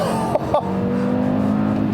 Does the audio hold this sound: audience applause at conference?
no